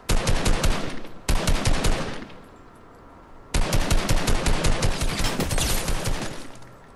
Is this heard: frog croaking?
no